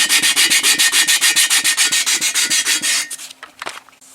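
An aluminum engine valve cover is sanded by hand before painting, a loud, close, steady back-and-forth scrubbing in an even rapid rhythm that slows and breaks into scattered scrapes and taps near the end.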